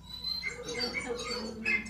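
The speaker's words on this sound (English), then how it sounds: "That's actually a whale making that really complicated sound." Whale song sped up and raised in pitch so it resembles birdsong: a stream of quick high chirps, squeaks and warbles, fairly close and steady, with no pauses.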